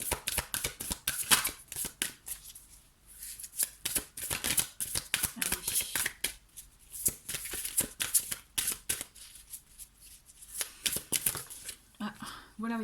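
Tarot cards are shuffled and flicked in quick, crisp bursts, close and fairly loud, with short pauses between runs and a voice speaking briefly near the end.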